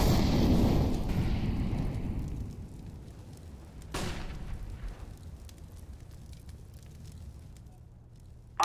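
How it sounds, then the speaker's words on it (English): A flashbang grenade going off in a video game: a loud burst at the start that fades into a long rumbling decay, then a second sharp crack around the middle trailing off into low background noise. "I'm throwing a flashbang."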